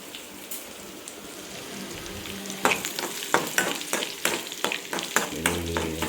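Garlic and mustard seeds fry in hot oil, a low sizzle that breaks into a lively run of sharp pops and crackles, close and growing busier toward the end.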